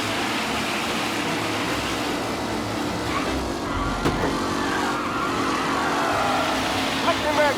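Race cars roar past in the Mafia Definitive Edition racing game, a dense continuous engine drone with rising and falling pitch as cars speed by, loud and steady, with commentary-style speech mixed in.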